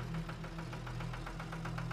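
A tractor engine pulls a hayride, giving a low, steady idling rumble with a regular knocking pulse several times per second. It is moderately quiet and heard alone, without voices.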